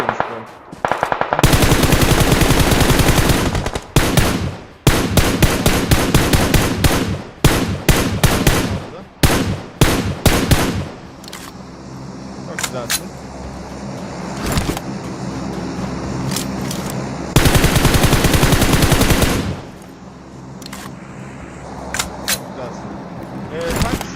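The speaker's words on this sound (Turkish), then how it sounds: "Lan bana kim sıkıyor?" Rapid automatic gunfire in the mobile battle royale game PUBG Mobile, loud long bursts and single shots coming in repeated waves, with players talking over parts of it.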